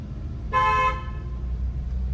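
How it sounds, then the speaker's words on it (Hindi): A single short car horn honk sounds nearby over a low engine rumble during a driving lesson. "हॉर्न"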